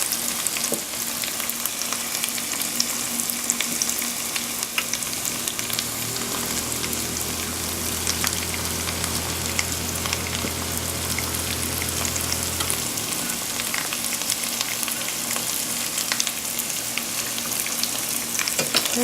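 Chickpea falafel frying in a pan, a steady broadband sizzle running throughout with a low bubbling hum swelling in the middle stretch.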